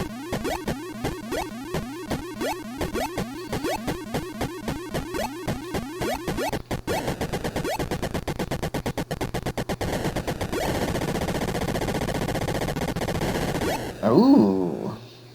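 Retro arcade shooting from the video game Space Invaders: rapid, evenly repeating electronic zaps and chirps give way to a dense, buzzing stream of game effects, loud and continuous, ending in a short burst.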